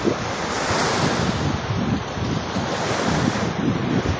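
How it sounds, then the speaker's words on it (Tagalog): Sea waves wash along the Corniche seafront in Jizan, a broad continuous surf roar mixed with buffeting wind noise on the microphone, close and steady with no talk. "Dito kami sa dagat, sa Cornish."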